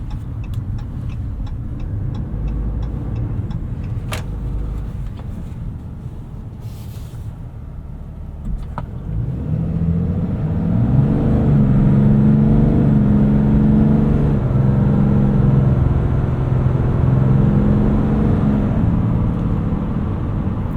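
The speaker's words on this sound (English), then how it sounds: "Let's try a 0 to 60 acceleration" A 2021 Ram 3500 dually turbo diesel pickup pulls hard from a stop toward sixty, its deep diesel drone rising and swelling steadily inside the cab, loud and continuous.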